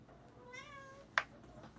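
A house cat gives one drawn-out, rising and falling meow, close and soft, followed by a brief sharp knock in a quiet room.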